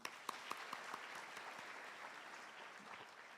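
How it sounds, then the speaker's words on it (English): A crowd applauds from a distance at a university graduation ceremony, the clapping steady and fairly faint, with a few sharper claps standing out near the start. "Shall we applaud again?"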